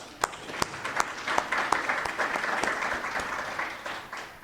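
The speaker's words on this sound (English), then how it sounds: "Let's give them a round of applause." Audience applause at the opening of a philanthropy forum, several seconds of steady, full clapping with a few sharper, louder claps standing out.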